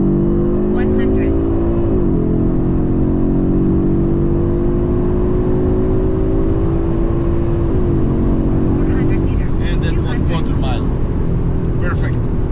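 Stock 2025 Audi RS3 8Y facelift accelerating hard from a launch, the engine note climbing loud and close with quick gear shifts, then a faint voice near the end.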